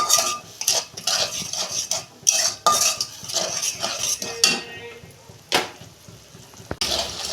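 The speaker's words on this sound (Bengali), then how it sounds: "মশলাটা আমি দু মিনিট কষছে নেব" Spice paste with turmeric and chilli is stir-fried in a pan for a pabda fish curry, a spoon clattering and scraping against the metal in quick irregular bursts, with faint sizzling between strokes and no talk.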